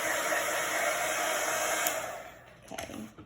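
A hair dryer blows with a steady high whir, then cuts off, leaving a few small handling clicks.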